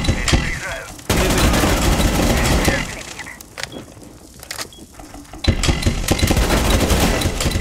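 Loud bursts of automatic gunfire from a Rainbow Six Siege match, dense volleys in two stretches with scattered single shots between them, while a player talks over the shooting.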